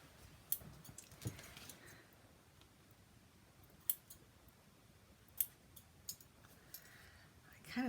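Scissors snip at a paper card in a few quiet, scattered cuts, faint sharp clicks spaced irregularly over a soft background.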